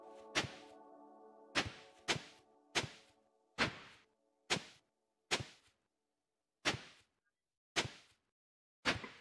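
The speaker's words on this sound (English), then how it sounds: "So, let's get to tilling." A hoe tills soil in Stardew Valley in about ten separate sharp thwacks at an uneven pace, loud and alone with no talk.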